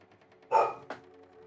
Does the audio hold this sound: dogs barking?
yes